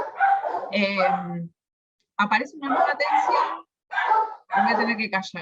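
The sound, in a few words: dogs barking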